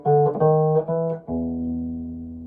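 Electric blues guitar lick in a Chicago blues style walking up to the turnaround: a few quick plucked notes and double stops, then one sustained ringing note, played alone.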